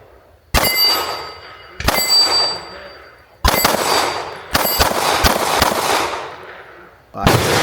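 Shots from a 2011 pistol with a 4 1/4 inch barrel fired at steel targets: five loud, sharp reports spaced a second or so apart, each followed by a bright metallic ring and echo.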